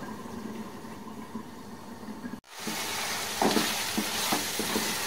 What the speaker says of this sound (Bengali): এটা আমি ভালো করে কুক করে নেব।